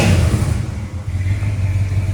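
A 1976 Plymouth Road Runner with a 360 V8 idles steadily nearby, a continuous low rumble holding at one level for about two seconds.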